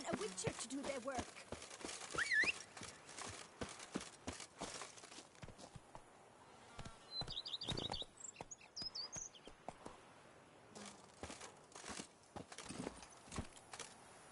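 Roach, the horse in Witcher 3, trots at an uneven clip-clop pace at moderate volume, with speech and faint chirping crickets in a quiet outdoor setting.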